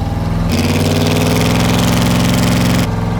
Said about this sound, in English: Bring the RPM up.